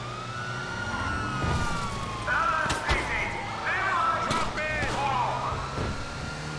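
Police sirens chase the player in the video game GTA V, wailing tones sweeping up and down amid sharp bursts that may be gunfire and rumbling engines, with a faint voice in places.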